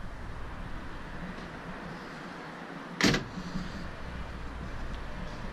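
A car hood being opened gives one sharp, close thunk partway through, set against a steady low background hum.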